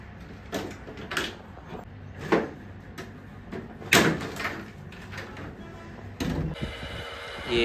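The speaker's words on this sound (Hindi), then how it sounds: "ये एसी ऐसे आवाज कर रहा है" A room air conditioner with a fault makes irregular clunks and rattling knocks, repeated sharp mechanical bursts every second or so, ending in a louder grinding whir.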